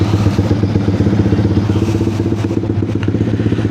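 A motorcycle engine idles close by near a gas station, a loud, steady, rapidly pulsing rumble with some mechanical clatter running throughout and no talk over it.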